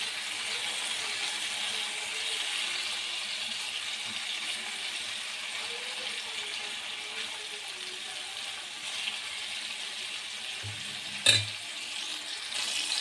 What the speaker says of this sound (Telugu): సిమ్లో బాగా ఉడకనివ్వాలి.